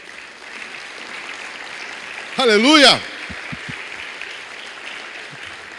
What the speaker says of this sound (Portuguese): Pode dar um aplauso a Jesus?